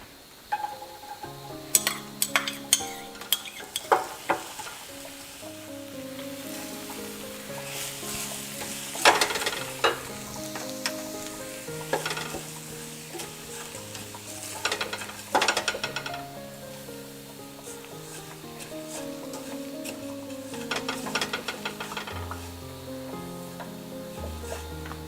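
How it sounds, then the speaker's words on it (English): Onions and TVP sauté in a pan as soft sizzling runs beneath a melodic instrumental music track, with intermittent scraping and stirring clatters. "So I'm going to saute some onions and put the meat in it."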